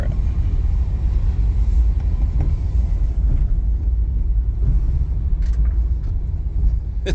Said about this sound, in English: First drive in the Subaru Impreza.